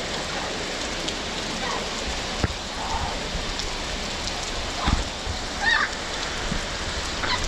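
Torrential tropical rain pours down in a dense, steady hiss with scattered heavier drops, a continuous close wash and no voices.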